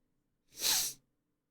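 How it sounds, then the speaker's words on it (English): A single sneeze, sharp and fairly close, lasting about half a second and standing alone against near silence. "I gotta sneeze."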